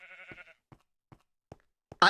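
A Minecraft sheep lets out one wavering, close bleat at the start. A few sparse soft clicks follow, then a sudden loud burst of noise at the very end.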